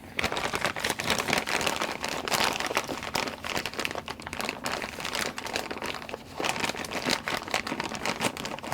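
Plastic snack packets crinkling and rattling as they are grabbed in threes, a dense, continuous close-up crackle of crumpling wrappers with steady loudness throughout and no talk.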